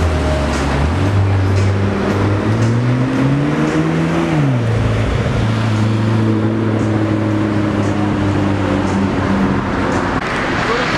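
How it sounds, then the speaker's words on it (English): A Porsche Carrera GT sports car passes on a city street in Austin during F1 weekend, its engine note rising and falling as it accelerates and shifts, loud and close amid traffic noise. "Bye bye, Carrera GT."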